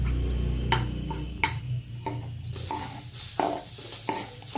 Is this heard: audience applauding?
no